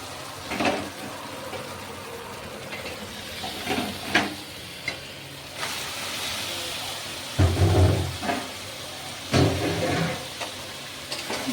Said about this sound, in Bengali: মশলাটা ভালো করে কষিয়ে নিয়েছি তেল ছেড়ে দিয়েছি এবার আমি মাংসটা দিয়ে দেব